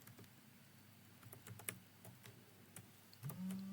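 Quiet, irregular clicks of typing code on a computer keyboard, a steady run of light keystrokes at close range with no talking.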